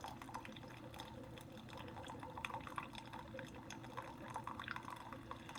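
A Keurig K-Supreme coffee maker brews a steady stream of liquid into a cup, a soft continuous trickle with light dripping, close and quiet, with no talking.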